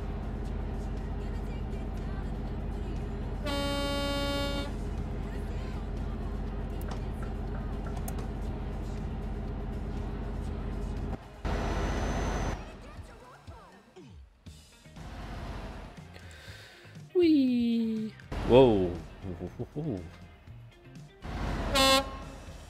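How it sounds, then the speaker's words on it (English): Truck horns honk in the Euro Truck Simulator 2 video game: loud blasts of varying pitch over a steady engine drone, with a burst of short toots and traffic noise near the end. "Horns are so loud."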